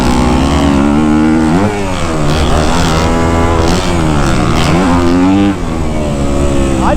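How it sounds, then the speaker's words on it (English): A Kawasaki KX250F dirt bike engine revs hard and high through third gear, its pitch rising and falling in loud, close sweeps with no talking. "Third gear revs out so far on this bike."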